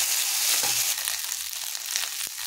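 Ginger garlic paste fries with onions in a pan for an egg do pyaza, giving a steady sizzle broken by a few spatula stirs and scrapes, close and fairly loud.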